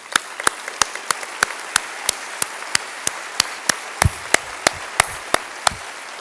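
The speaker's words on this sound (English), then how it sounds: "ask for one more round of applause to the many in our community" Scattered, evenly spaced hand claps from a small audience at a University of Michigan diversity, equity and inclusion opening-remarks event, sharp, fairly close and steady throughout, with no talking.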